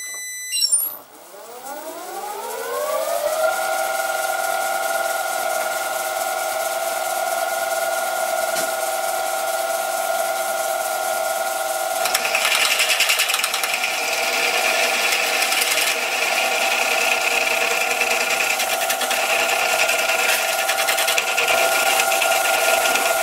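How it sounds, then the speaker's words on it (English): A cordless drill spins up with a rising whine, then grinds steadily at a high pitch while drilling a hole in metal, a continuous loud metallic drone with no talking. "Let's drill this hole."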